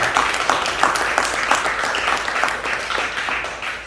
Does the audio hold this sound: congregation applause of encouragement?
yes